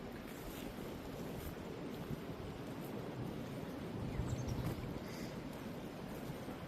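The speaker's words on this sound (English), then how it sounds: "Now it's starting to get a little breezy out here." Steady outdoor wind rushing and buffeting a microphone beside a stream, a continuous broadband roar with gusts swelling slightly toward the end, no voices.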